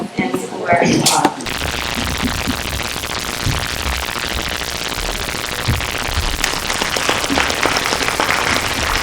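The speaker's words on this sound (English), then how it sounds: "applause." A round of applause fills a township council meeting room in Highlands, New Jersey: dense, sustained clapping from many people for several seconds after a short moment of talk.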